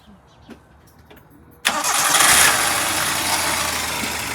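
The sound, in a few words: car engine being restarted and idling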